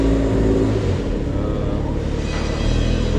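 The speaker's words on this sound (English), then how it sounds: "Now this car is going on the dyno. Let's see how this car sounds and what power this car makes." Stock single-turbo port-injected Ferrari 355 with an upgraded transmission running on a dyno, its engine droning loud and steady with a low rumbling tone throughout and no pause.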